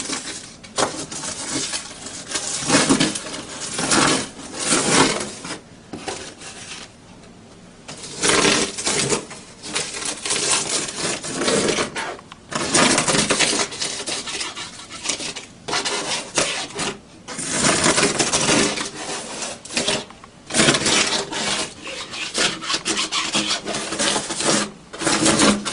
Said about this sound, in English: if I scrape more and more off, you will see more and more white